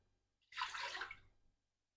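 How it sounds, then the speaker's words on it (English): About a cup of water pours steadily for about a second, a bright splashing gush that starts abruptly and tapers off, alone in a quiet room. "I'm just going to put a cup of water"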